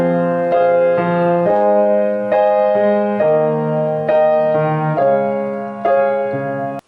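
Piano chords from a song, a steady sequence of struck notes and chords in an even rhythm, close and clear; no distinct singing voice stands out over the keys.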